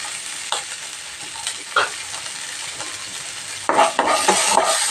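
About twenty small onions and ten garlic cloves sauté in a pan for tomato kuzhambu, with a constant sizzle, a few spoon scrapes, and a louder clatter of stirring toward the end.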